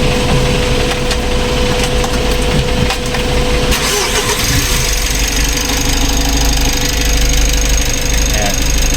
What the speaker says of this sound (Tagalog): So ito, start natin yung makina.